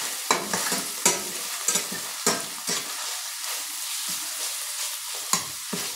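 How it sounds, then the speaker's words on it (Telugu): Ginger garlic paste and onions stir-fried in a pan for a home-style egg and ridge gourd curry, giving a steady sizzle broken by repeated sharp scrapes and clinks of a spoon against the pan, close and moderately loud with no talking. "ఈ జింజర్ గార్లిక్ పేస్ట్ని ఆనియన్స్తో కలిపి వేపుతున్నానండి"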